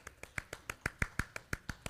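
A light smattering of claps from an audience at a talk on menstrual health, about a dozen crisp, separate hand claps in a fairly steady rhythm, close and moderately loud, with no voices.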